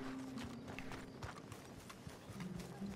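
In Red Dead Redemption 2, a horse's hooves clip-clop in a quick, irregular series of soft thuds, faint and close over low game ambience.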